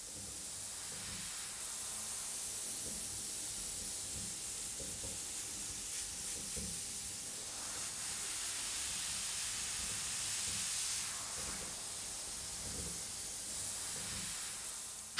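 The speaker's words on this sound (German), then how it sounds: "sprüht nochmal die Konturen der Lavasteine nach" An airbrush spray gun goes over lava-stone contours during body painting on a model, giving a soft, continuous hiss that stays faint and steady for the whole stretch with no talk.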